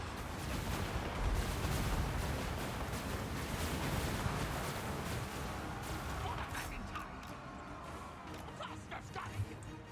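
Mortar fire in the strategy game Warhammer 2: Total War, a dense continuous rumble of battle with repeated crashing blasts and impacts throughout, a busy mix that stays loud the whole time.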